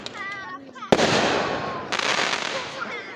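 Fireworks burst with a sudden loud crack followed by crackling, sizzling sparks that trail off, after a rising whistle and distant pops, while voices react nearby.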